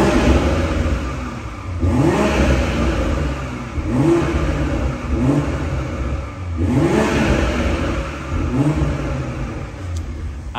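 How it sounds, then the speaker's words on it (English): A BMW X3 M40i six-cylinder in sport plus mode revs up repeatedly from standstill, about four rising blips of throttle each falling back to a steady idle, heard close and clear with no talk. "would be rude if we didn't give it a little bit of throttle"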